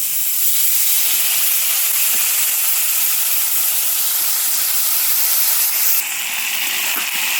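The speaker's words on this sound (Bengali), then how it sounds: "এবার একটু জল দিয়ে দিই, কারণ কি আগুনটা একটু জোরে জ্বলেছে" Water poured into a hot pan of frying drumsticks, beans and note shaag sets off a loud, continuous hissing sizzle that fills the moment and eases slightly near the end.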